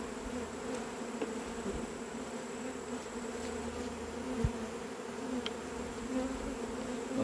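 Honeybees swarm busily around an open hive, a steady, dense buzzing hum with occasional individual bees zipping past close by, faint overall and without voices.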